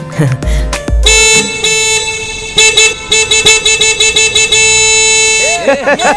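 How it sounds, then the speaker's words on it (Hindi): Loud car horns blare repeatedly in busy traffic, some long sustained honks and some quick toots, close by and overlapping. "इतनी ट्रैफिक में तुम्हें जोर जोर से हॉर्न बजाने की क्या जरूरत है?"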